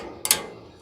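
A socket wrench ratchets in a quick burst of close, bright clicks partway through a short moment, then fades into quiet room tone.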